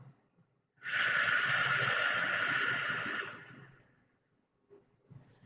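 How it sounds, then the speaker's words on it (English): A slow, deep breath drawn in and let out during a calming breathing exercise for anxiety, a long steady airy rush lasting about two and a half seconds before fading, close and alone. "One more round. Inhale in and out."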